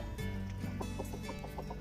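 Chickens cluck in short repeated notes at a Thai Buddhist temple in Chachoengsao, over a steady, noisy background, fairly faint and a little distant.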